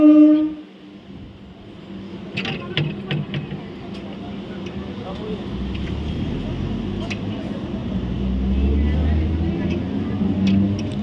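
A passenger train pulls into a small local station, a low rumble that swells steadily under a person talking, with a few brief metallic clanks along the way.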